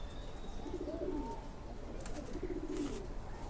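Lalpatti pigeons cooing softly in a loft with other nesting pairs, two low rolling coo phrases about two seconds apart over steady background hiss.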